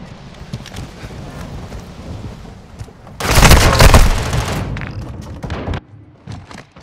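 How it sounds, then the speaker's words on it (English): A grenade explodes in a video game: a loud, sustained booming blast about a second long that rises out of busy battle noise and then fades back into it. "Grenade!"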